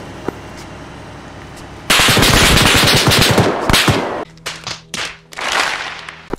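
Machine gun fire in the Arma 3 military shooter game: a loud, sustained rapid burst of automatic shots, then several shorter bursts and single cracks, close and dominant over a low background rumble.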